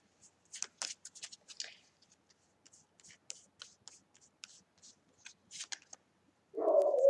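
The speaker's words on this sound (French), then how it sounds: "maintenant on va tirer une carte" An oracle deck is shuffled and a card drawn, giving soft papery riffles and light taps in short bursts, close and quiet, ending with a brief murmur of a voice.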